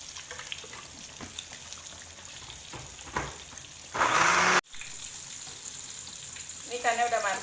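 Tongkol tuna frying in hot oil for pesmol: a steady crackling sizzle, with a brief louder burst of spattering midway and a stir at the end.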